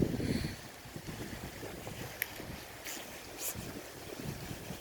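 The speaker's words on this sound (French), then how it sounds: "Écoutez ce vent. Putain, il est affreux là." Strong, gusty wind roars steadily across an exposed spot where an old Renault 4CV wreck lies, buffeting the microphone with a low rumble and a few sharper gusts throughout.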